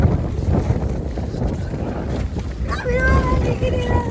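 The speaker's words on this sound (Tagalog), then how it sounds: "parang umiikot ang mga hangin." Strong gusting wind buffets the microphone in an outdoor setting in Quezon as rain approaches, a continuous rushing roar with low rumbles, while a person talks over it and a whistling tone rises near the end.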